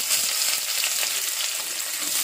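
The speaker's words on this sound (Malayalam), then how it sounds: "ഞാൻ ഒരു കപ്പ് അരിഞ്ഞു വെച്ച ചുവന്നുള്ളിയാണ് ഇട്ട് കൊടുക്കുന്നത്." Chopped red shallots frying in hot oil with mustard seeds for a chickpea curry, a steady dense sizzle with faint crackles throughout, close and alone with no talking.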